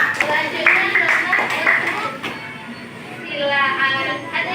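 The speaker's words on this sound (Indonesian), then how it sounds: "Oke, tepuk tangan dulu temannya." Children in a classroom clapping for a classmate, a burst of scattered hand claps near the start that fades out while a voice talks over them.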